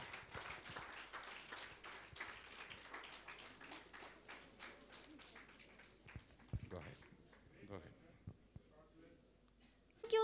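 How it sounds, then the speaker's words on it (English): Audience clapping at an award ceremony, a dense patter of applause that thins out toward the end, moderately loud in a hall. "put your hands together to applaud the seventh AOS Parisutha Nadar awardee, Dr. S. Chandrakumar"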